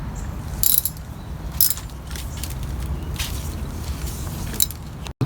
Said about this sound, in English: he's going to grab a wrench, put it on the rest of the way